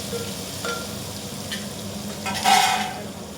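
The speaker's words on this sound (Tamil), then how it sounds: "தக்காளி, கேரட், காளான் இவங்கெல்லாம் நல்லா விட்டு வதக்கி எடுத்துக்கோங்க" Tomato, carrot, beans and mushroom sauté for a millet kichadi, a soft steady sizzle in the pan with a few stirring scrapes and a brief louder burst of hissing near the end, no voices.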